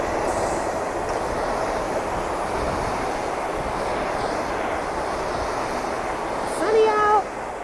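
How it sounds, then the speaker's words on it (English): A train rumbles past near an apartment, a steady loud roar of wheels on rails throughout, with a brief metallic squeal toward the end. "here's a train."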